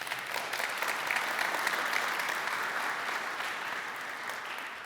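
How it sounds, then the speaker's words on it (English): Audience applause at a tech conference talk on React Native, a dense, steady wash of clapping from a large crowd that holds for about five seconds and fades slightly toward the end. "needs a round of applause"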